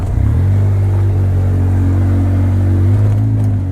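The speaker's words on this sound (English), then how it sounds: "it crawled right through there without even spinning the tire" A 2014 Polaris RZR 800 EPS side-by-side crawls slowly over a trail obstacle, its engine holding a loud, steady, close-up drone with no voices.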